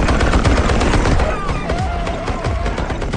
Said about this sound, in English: These creatures, which had shrugged off bullets before, were finally torn apart under heavy machine gun fire.